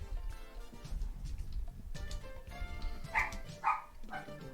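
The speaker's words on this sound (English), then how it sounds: "Hey, why are you barking? Don't be barking." A pet dog barks indoors in several sharp bursts, with two louder, higher barks near the end, over a steady low background hum.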